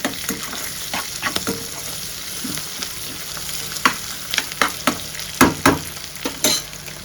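Eggs sizzle and fry in a pan for Schezwan fried rice with chicken pickle, steady crackling broken by irregular scraping and tapping strokes as they are stirred, with no talk.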